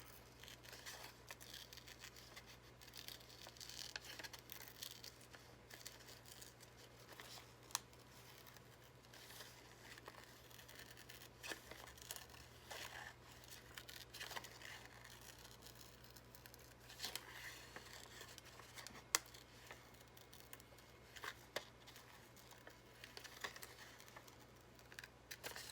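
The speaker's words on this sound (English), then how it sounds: "the sound of cutting paper is the best" Paper being cut with scissors for an analog collage, a steady run of soft, faint snips and crisp rustles close by, going on for the whole stretch with no talking.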